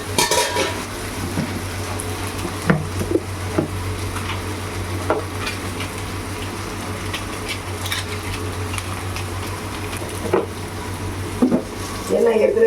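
Sambar ingredients sautéing in a pan with a steady low sizzle, while a spoon stirs and scrapes against the metal in occasional brief clinks and strokes. No one speaks.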